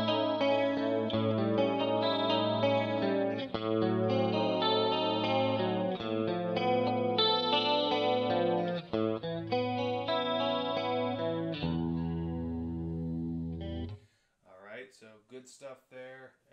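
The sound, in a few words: Perle Destroyerman electric guitar playing tones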